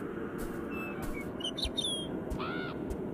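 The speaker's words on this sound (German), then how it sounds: "Ein Vogel." Bird calls in the video game Beyond Eyes: a series of faint, high chirps and short whistled trills scattered over a soft, steady ambient hiss, with one longer warbling call near the end.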